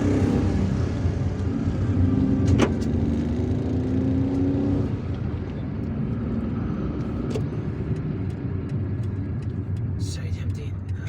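Heavy city traffic in Algiers with a watering truck passing close by, its low engine rumble and road noise steady and loud throughout, a brief sharp click near the start and a fading tonal whine midway.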